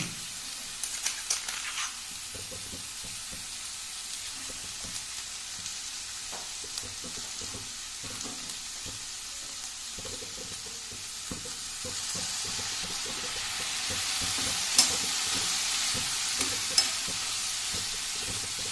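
Garlic fries in a pan for aloo shimla mirch sabji, with a soft continuous sizzle and occasional stirring clicks and scrapes that grow a little more intense toward the end, and no voices.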